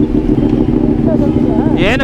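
A Ducati Panigale 959 V-twin motorcycle with a loud exhaust, heard up close as a heavy, steady, continuous rumble throughout.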